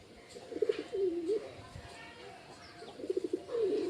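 Two bouts of throaty cooing from pet pigeons, each a rolling, pulsing phrase about a second long, separated by a quieter gap with faint background noise.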